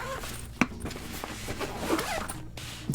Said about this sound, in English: Unzip it with the double zippers.